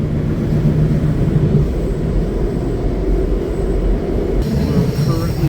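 DC Metro train pulling into Ashburn station, a steady loud low rumble and rolling rail roar with a faint higher whine, continuous throughout and ending abruptly.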